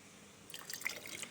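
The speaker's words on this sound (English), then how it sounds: "put some hot water in here." Hot water is poured into a cooking pot while making chicken tikka masala, a soft trickling, splashing sound starting after a quiet moment and continuing in small drips and gurgles, faint and close.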